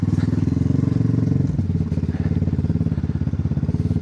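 A motorcycle engine runs close by with a steady, throbbing idle, its pitch shifting partway through as it is put in gear and pulls away.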